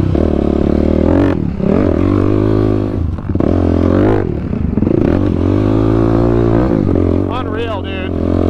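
A Honda TRX 450R ATV rides the sand dunes at Glamis, its engine droning loud and close and revving up and down throughout, with a voice talking over the motor.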